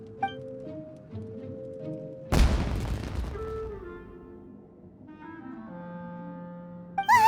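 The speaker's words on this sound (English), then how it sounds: "It sounded like fireworks." Fireworks burst in an animated scene, one sudden loud broadband bang followed by a decaying crackling rumble that fades over a few seconds, set against sustained music.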